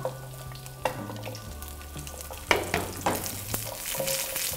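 Garlic and rosemary frying in oil in a pan for oven-baked breaded salmon, with a steady close sizzle and a few sharp clatters and stirring knocks, no talking.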